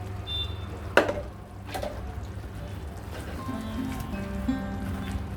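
A spoon scrapes and stirs a thick mixture of milk powder and ghee in a pan for peas barfi, with a sharp knock near the start, then steady soft scraping and faint sizzling up close.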